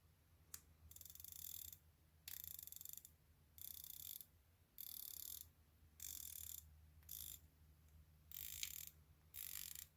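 Sapphire-insert bezel on a Seiko SBDC051 homage dive watch being turned, giving quiet, precise ratcheting clicks in short repeated bursts separated by brief pauses, close up.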